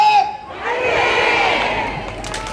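A crowd at a Daegu fruit and vegetable market shouts a unison fighting cheer, rising into a loud sustained collective yell after a brief lead-in voice, then tapering off.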